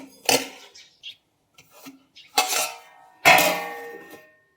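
Steel dishes and utensils clatter while a lunch box is filled with vegetable curry and chapati, several separate clanks and ringing knocks close by with quiet gaps between them.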